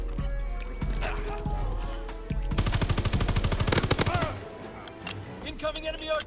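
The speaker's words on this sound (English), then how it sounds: "Now somebody else is shooting at me" Rapid automatic gunfire from a Call of Duty WW2 Domination match, a dense burst of shots near the middle with scattered single shots and game noise around it.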